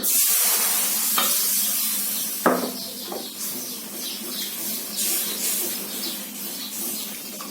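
A thickening milk mixture being stirred in a pan over a low flame, with steady soft sizzling and scraping strokes of the spoon, plus a sharper clatter near the middle; no talking.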